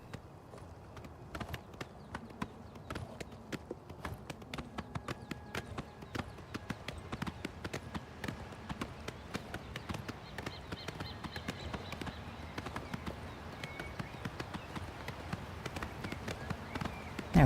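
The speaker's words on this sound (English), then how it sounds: "Just some peaceful ambient. And hoof noises." Horse hooves clip-clop at a steady, light trotting rhythm in Oblivion Remastered, soft and fairly quiet over faint ambient sound throughout.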